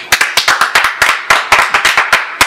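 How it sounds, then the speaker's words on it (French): Studio audience clapping on a French television variety show: sharp, separate handclaps from a small group, loud and close, in a quick uneven rhythm of about twenty claps over a couple of seconds, with no talk. "Sous vos applaudissements."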